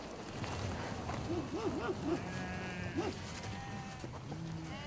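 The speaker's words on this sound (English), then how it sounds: "These sheep have adapted to a life of feast and famine by storing reserves" Sheep bleating in the dry Wakhan mountains of Afghanistan, a few short wavering calls from the flock at middle distance, mixed with outdoor rumble and someone talking.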